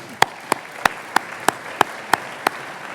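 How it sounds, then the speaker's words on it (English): At a chamber of commerce annual dinner, about eight sharp, evenly spaced claps ring out close by, layered over a softer, steady wash of crowd applause in the room. "Give yourself a round of applause."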